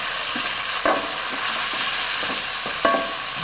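Tomatoes go into golden fried onions in a pan for home-style rasam, giving a constant hissing sizzle with a couple of sharp clacks from the spoon, close by and with no talk.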